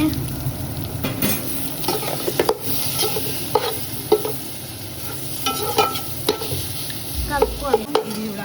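Spices being stirred into paneer biryani masala with green chilies in a pan: continuous sizzling with repeated scraping strokes of a spoon against the pan and occasional clinks, no talking.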